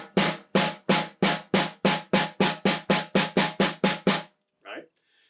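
A snare drum plays a slow, open long roll with two strokes per hand: about fifteen evenly spaced, crisp hits at a steady rhythm, loud and close, followed by a brief faint sound after the roll stops.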